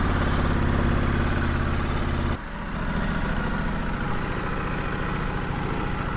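A 2022 Ducati Desert X motorcycle engine idles steadily at close range, a loud, continuous rumble that drops slightly in level partway through before holding even.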